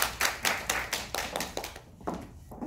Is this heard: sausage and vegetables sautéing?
no